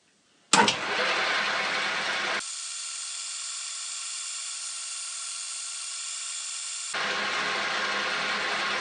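Watchmaker's lathe taking a very light cut, a steady close mechanical whine that drops to a smoother, thinner hum midway before returning to the fuller running sound.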